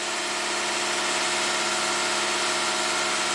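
A 2015 Lexus IS250 V6 idles high at about 2,200 RPM because its throttle won't close, a steady, even engine drone with a constant buzzing hum and no change in pitch, with no talking.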